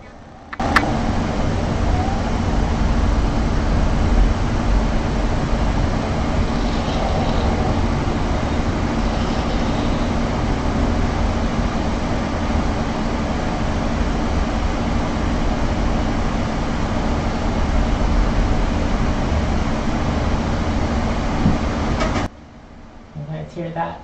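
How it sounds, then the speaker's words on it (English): A constant mechanical whir and hum from many spinning external hard drives in a Burst cryptocurrency mining rig runs steadily for over twenty seconds, then cuts off abruptly near the end. "That is the sound of hard drive mining."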